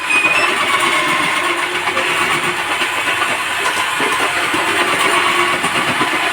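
An electric food processor with five interchangeable blades runs steadily, giving a loud, continuous motor whir and grinding roar that holds unbroken from start to finish.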